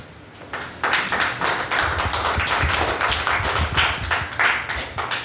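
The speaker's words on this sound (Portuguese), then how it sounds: "Pode se assentar nessa noite aplaudindo ao Senhor." After a brief quiet start, a church congregation breaks into close, loud clapping, sharp individual claps overlapping in a fairly steady rhythm until the end.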